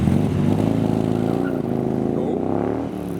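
A Viper Cobra kit car with a fixed hardtop and rear exit exhaust drives away from a car show, its engine note a steady, loud, rumbling drone close by throughout, tapering slightly at the end.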